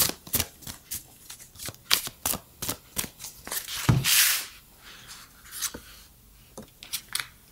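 Oracle cards are shuffled in a quick, regular rhythm of crisp riffling snaps, close and fairly loud, with one longer swishing riffle in the middle and no talking.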